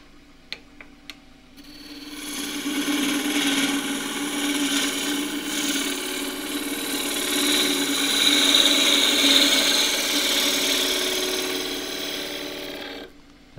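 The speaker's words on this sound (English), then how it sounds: "And then I can take a shear cut with the bevel rubbing." A half-inch spindle gouge taking a bevel-rubbing shear cut on wood spinning on a lathe, a steady hissing scrape lasting about ten seconds after a few light taps.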